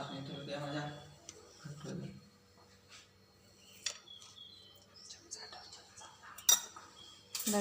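A knife cuts through homemade pistachio kulfi set from one litre of milk, giving quiet, scattered metallic clinks and taps against a dish, with brief talk at the start.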